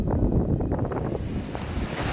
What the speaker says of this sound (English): So it's a little bit windier